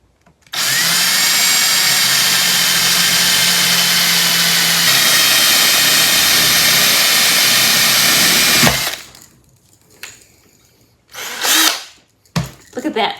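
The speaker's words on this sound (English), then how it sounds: "I'm going to take my drill with the biggest drill bit that I happen to have." A power drill with a large bit bores a hole, a loud continuous whirring grind lasting about eight seconds that stops abruptly, followed by brief handling noises and short bursts of sound.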